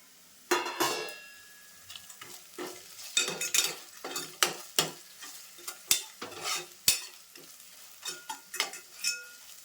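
Whole cinnamon, cloves, green and black cardamom fry in a pan for dhaba-style chicken kheema, a soft sizzle under repeated scraping stirs and clinks of a spoon against metal.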